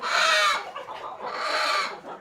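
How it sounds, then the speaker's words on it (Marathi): Chickens cluck loudly and close by in two bursts of agitated squawking, with a short lull between them. "तर चला कोंबडी पण घेतली"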